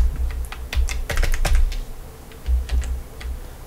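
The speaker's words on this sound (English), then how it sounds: "I'll try typing something." Typing on a computer keyboard, a quick run of crisp key clicks in bursts with a pause in the middle, close and clear with no talk.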